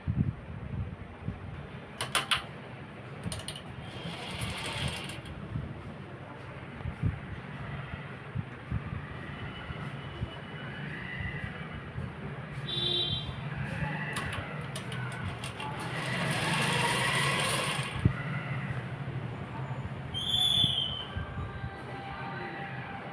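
An electric sewing machine stitches the side seam of a pair of pants, giving a continuous mechanical whir and rattle that rises and eases in bursts over a long stretch, with occasional sharper clicks.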